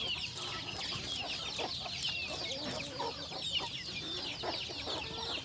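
A flock of chickens keeps up a steady stream of close, overlapping clucks as they peck at green grass and plants, with no voices over it.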